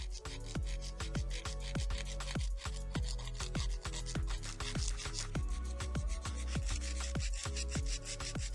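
Acrylic nails being filed with a nail file, a close, quiet rasping in quick, steady back-and-forth strokes that continue rhythmically throughout.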